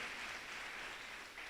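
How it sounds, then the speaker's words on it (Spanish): A church congregation claps, a dense wash of applause that stays strong and even from start to finish, heard from a distance. "Dale fuerte el aplauso al Señor"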